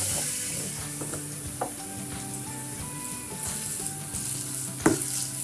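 Something frying in oil while vada pav batter and filling are prepared, a steady sizzle with intermittent stirring clinks and a sharper knock near the end, tonal hums faintly underneath.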